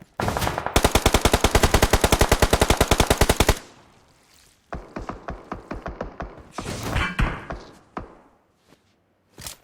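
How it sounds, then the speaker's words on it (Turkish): Loud, rapid automatic gunfire in the battle royale game PUBG: a sustained burst of evenly spaced shots, then a pause followed by scattered, irregular single shots and short bursts at varying distances. "Arkada sıkıyor önde sıkıyor orada durulmaz ki"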